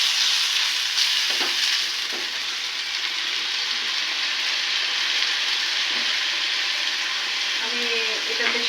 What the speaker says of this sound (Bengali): বাটা পেঁয়াজ দিয়ে দিলাম।